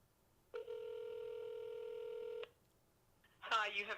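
An outgoing telephone call rings with a single steady electronic ring tone lasting about two seconds, clear and close, followed after a pause by a voice beginning to speak.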